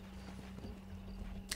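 Horse hooves pound steadily in a horse race in the video game Red Dead Redemption, a rapid rhythmic clip-clop over a low rumbling background.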